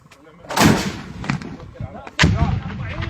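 Weapon fire during fighting against ISIS: two heavy, booming blasts about two seconds apart, each trailing off in a rumbling echo, with voices faintly present.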